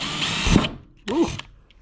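A power drill bores through the fiberglass spoiler of an Autozam AZ-1 in two short, close bursts, the second one whining up in pitch as the motor spins up, with brief quiet between.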